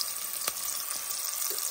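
Smoked Polish sausage fries in a pan with bacon grease, giving a faint, steady sizzling hiss with a couple of soft ticks and pops, heard close and alone without talk.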